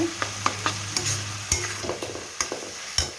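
Masala spice paste frying in oil for a chicken curry with kohlrabi, with a continuous sizzle punctuated by regular sharp metallic taps and scrapes of a spoon against the pan, close and fairly loud, no speech.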